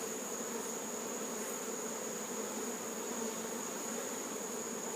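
Honey bees hum around an open hive, a steady, dense drone that stays even throughout with no one speaking.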